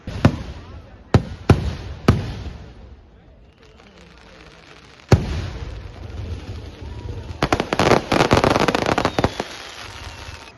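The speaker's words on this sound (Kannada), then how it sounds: "ಮಧೂರು ಶ್ರೀ ಮದರಂತೇಶ್ವರ ಸಿದ್ಧಿವಿನಾಯಕ ದೇವಾಲಯದಲ್ಲಿ ವಿಶೇಷ ಸಿಡಿಮದ್ದು ಪ್ರದರ್ಶನ ನಡೆಯಿತು" Fireworks display at the Madhur Sri Madananteshwara Siddhivinayaka temple festival: loud sharp bursts ring out singly at first, then a dense crackling cluster of rapid explosions, echoing outdoors with a crowd murmuring underneath.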